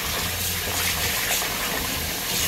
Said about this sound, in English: Run the cold water.